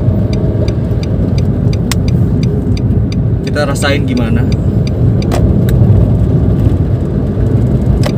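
A 2014 Nissan March 1.2 with manual transmission drones steadily at cruising speed, its engine and road noise continuous and close, while someone talks over it briefly.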